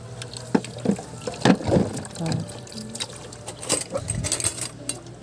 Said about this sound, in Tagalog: kasi napupuno na yung tubig